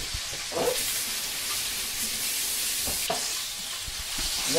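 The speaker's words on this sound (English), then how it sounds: "maybe 8-10 ounces of really thinly cut pork. It's going to stir fry up real fast" About eight to ten ounces of thinly cut pork stir-fries in a very hot pan, with a loud steady sizzle and hiss broken by occasional scraping stirs of a utensil, and no talking.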